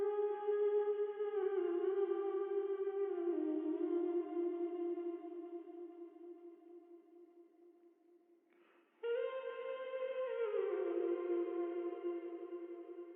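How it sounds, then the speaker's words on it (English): Sustained harmonic vocal tones with a robotic auto-tuned quality, recorded at home and layered into an emotional R&B beat, holding steady notes that step between pitches, dropping quieter near the middle before returning loud and full. "I recorded them myself with auto tune on, and they sound like this."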